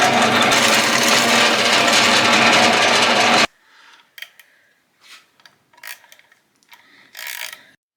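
Four-inch carriage bolts are tightened through plywood for homemade stilts. A loud, rapid ratcheting whirs for about three seconds, then stops abruptly into quiet, followed by scattered clicks and knocks of handling.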